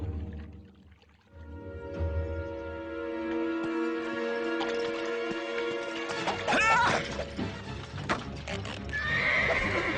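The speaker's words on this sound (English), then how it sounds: "Bring Pegasus to me" The winged horse Pegasus neighs and whinnies in a cartoon, with clip-clopping hooves and a crash mixed in, fairly loud and close over background music and effects.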